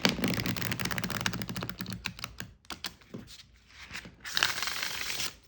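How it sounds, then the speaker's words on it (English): Rapid riffling and snapping of a tarot deck being shuffled up close, a fast flurry of crisp card clicks with short pauses between bursts. "I can still, shuffle the cards and bend the cards"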